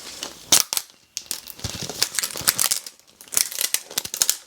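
Crinkly plastic wrapper being torn and peeled off a Zuru Mini Brands Mini Fashion capsule ball, a close, busy run of crackles and tearing bursts with brief pauses, no talking.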